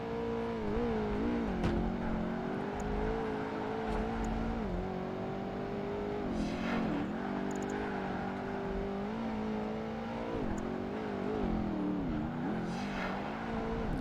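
Porsche and Pagani Zonda racing engines in the game Project Gotham Racing 2, a continuous loud engine roar with revs rising and falling through gear changes and corners, plus occasional sharp bursts; no talk.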